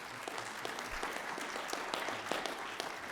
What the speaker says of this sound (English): we can clap, we can keep clapping for that